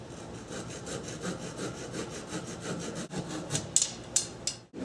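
Handsaw strokes cutting through a wooden pump drill spindle, a steady rhythmic back-and-forth rasp close up that quickens and sharpens near the end as the cut finishes, no talking.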